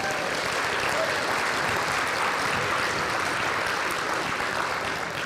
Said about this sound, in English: So how about another round of applause for all of you?